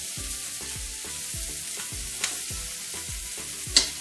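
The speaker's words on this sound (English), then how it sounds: "when you're frying the other side" Stuffed bitter gourd sizzles and spatters in a hot pan, with a regular series of soft knocks and scrapes, one brief sharper crackle near the end.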